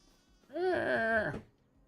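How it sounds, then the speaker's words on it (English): A sheep or goat bleats once on a farm in the Farming Simulator 25 video game, a single wavering, nasal call lasting about a second, clear and fairly close against a quiet background. "we have another farm with some goats and sheeps"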